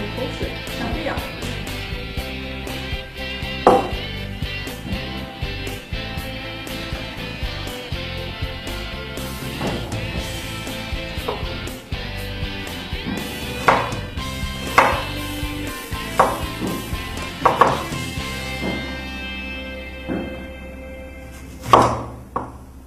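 Kitchen knife repeatedly chopping an onion on a cutting board, a steady run of close, sharp knocks with irregular louder thuds, some talk heard faintly underneath.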